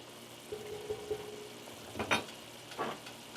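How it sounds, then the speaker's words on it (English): Moqueca fish stew simmering in a pot, a faint low bubbling sizzle with a few soft clinks and stirring scrapes near the end. "I'm going to let that simmer for another few more minutes."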